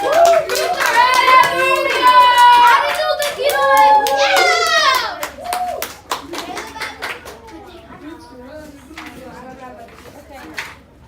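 A school public-speaking session's audience claps in a quick scattered round, sharp hand claps mixed with children's voices talking and calling out over it, fading toward the end.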